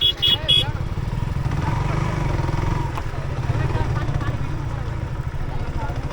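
A 125cc sports motorcycle engine runs steadily close by, a continuous low rumble that holds throughout while people talk over it.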